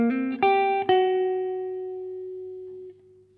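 Clean electric guitar picks a short solo phrase: three quick plucked notes, then a final note that rings out and slowly decays, solo and fairly close.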